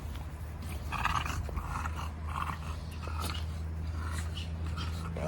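An exotic bully puppy whines and cries faintly in the background, thin high whimpers recurring over a steady low hum in a quiet indoor space.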